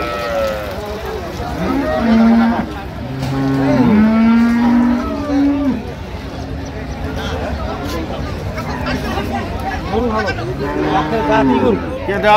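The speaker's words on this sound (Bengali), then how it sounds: "হ্যাঁ গরু এবং বড় বিশাল ষাড় বাচ্চা" Cattle, including dairy cows, calves and large bulls, moo and bellow loudly and close by amid a busy crowd at the Ambari cattle market in Dinajpur, with voices chattering and calling throughout.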